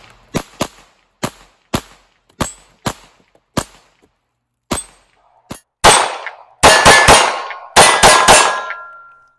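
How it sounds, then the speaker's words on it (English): Beretta M9 .22 caliber pistol shots at a range, a string of sharp, loud cracks in an irregular rhythm, with a few heavier, ringing bursts toward the end as rounds strike bottles, no talking. "Let's shoot a few more rounds in those bottles right there."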